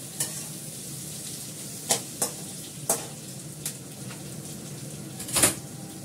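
Spiced potatoes and a fish head dusted with Kashmiri chilli powder are stirred in a pan over a low steady sizzle, with several distinct clacks of the spatula against the pan spaced a second or so apart.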